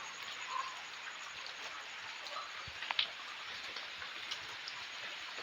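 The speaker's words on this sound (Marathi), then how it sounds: "पाऊस पडतोय रिमझिम रिमझिम" Soft, steady hiss of light drizzling monsoon rain falling outdoors in a Konkan village, with an occasional faint tick or drip.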